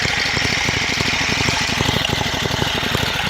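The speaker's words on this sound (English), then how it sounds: "A little bit of noise you're hearing is that idler pulley right there is a bit worn out." A worn idler pulley rattles and ticks in fast, even pulses over the steady running of a Sears Suburban SS16 diesel garden tractor, close and continuous throughout.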